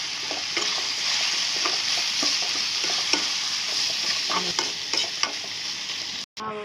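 Steady frying sizzle from a pan of onions and tomatoes, with scattered light clicks and scrapes of stirring throughout.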